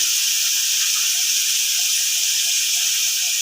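Ginger paste hitting a hot pan while cooking pointed gourd with prawns gives a loud, steady, close hiss of sizzling that holds unbroken throughout.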